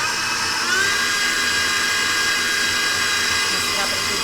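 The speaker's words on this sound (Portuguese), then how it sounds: "Vou ligar um pouquinho a batedeira." Electric kitchen mixer running continuously at close range with a loud, steady high-pitched whir and slight wavering in pitch while mixing eggs with milk and coffee.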